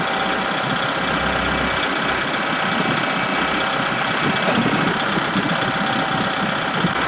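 A John Deere MX5400 tractor engine runs at a steady idle, a continuous low rumble with a faint knocking texture, close and unbroken with no talk.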